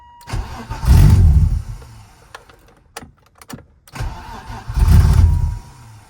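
A BMW 325es engine cranks and catches twice, each time running briefly before dying, with quiet gaps and small clicks in between.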